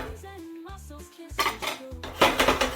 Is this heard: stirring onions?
yes